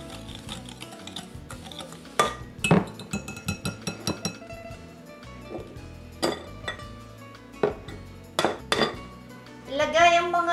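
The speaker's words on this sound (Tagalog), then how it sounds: "Haluin hanggang sa ang asukal ay humalo sa mantikilya." Butter and sugar being mixed by hand in a large bowl, with a run of clinking, scraping strikes of utensil against the bowl in an uneven rhythm over faint background music.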